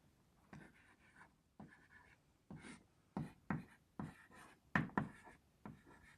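Marker or chalk scratching across a board in a physics lecture room, a series of quick strokes and taps in short bursts with brief pauses, fairly quiet and close.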